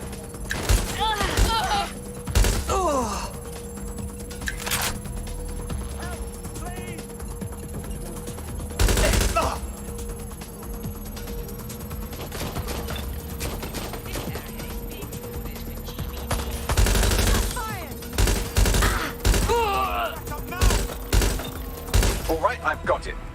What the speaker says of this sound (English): I'm hit! Taking fire!